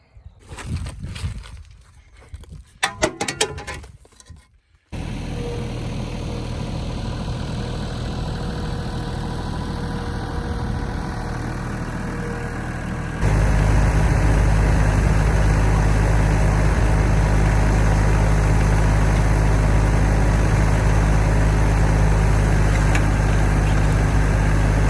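A tractor engine cranks and catches after a few seconds of rattling, then settles into a steady close-up idle that later steps up to a louder, heavier rumble.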